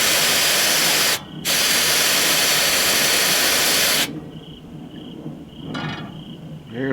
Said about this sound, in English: I've got my little air tank and blower. I'm going to blow up.